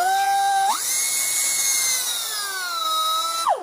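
A Matco air die grinder, internally regulated, spins up with a sharp pitch jump and holds a steady high whine, then winds down near the end; loud and close, with no talk.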